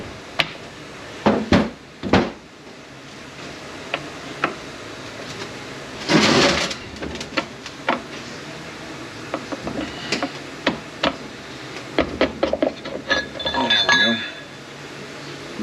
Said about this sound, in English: our center support and drum assembly should come out